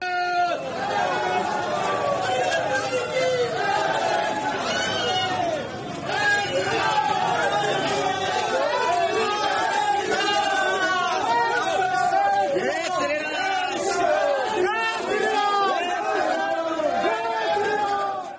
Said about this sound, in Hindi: इसी भीड़ को दूसरे एंगल से भी देखिए और नारों की आवाज को भी सुनिए।